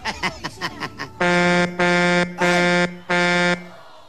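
Four loud, sustained car horn blasts in a row, each about half a second, following a few short choppy sounds at the start.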